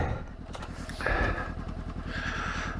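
Honda CB500X motorcycle engine running off-road, a steady close mid-pitched drone with rapid even firing pulses that swell briefly as the throttle opens, heard alone.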